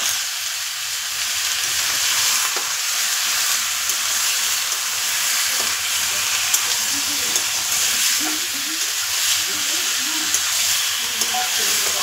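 Kalbat chicken meat frying in a pan, a steady loud sizzle with occasional stirring scrapes throughout, without voices.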